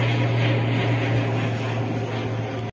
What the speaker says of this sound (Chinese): 所以你看有飞机经过的声音。